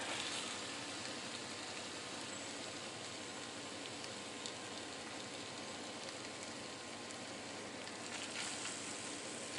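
Flour-coated fish frying in a pan outdoors on a fishing trip, a steady, even sizzle and crackle at moderate level throughout, with no talking.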